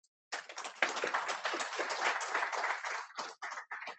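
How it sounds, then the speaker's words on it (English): An audience at an Army contracting panel event claps in a full round of applause that starts abruptly and holds dense and steady, then thins into scattered claps near the end. "Please join me in a round of applause for Charles and his fantastic panel."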